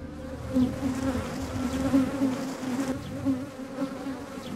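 Honeybees drone steadily at an apiary, a dense continuous hum of many insects with a faint wavering pitch, close and fairly loud throughout with no talk.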